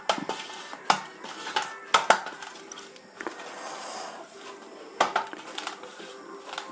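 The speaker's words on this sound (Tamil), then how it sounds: "இந்த மாதிரி நல்லா க்ரீம் ஆகணும் ஒரு அஞ்சு நிமிஷமோ பத்து நிமிஷமோ இந்த மாதிரி நல்லா கலக்கிக்கோங்க" Batter for sweet pathir pheni beaten by hand in a bowl, irregular knocks and scrapes of a utensil against the sides at close range, with quiet gaps between strokes.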